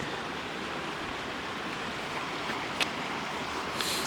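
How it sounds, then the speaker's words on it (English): A flooded river rushes past a washed-out road in a steady, broad roar of moving water, continuous and fairly close, with a couple of brief faint clicks near the end. "But you can hear the river rushing and see it rushing right there."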